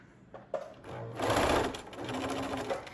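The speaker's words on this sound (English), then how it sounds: "You're gonna stitch a stitch or two forward and then a couple back." A sewing machine stitches a towel with a few quick stitches forward and a couple back, a close, steady mechanical whirring in short bursts with a brief pause between them.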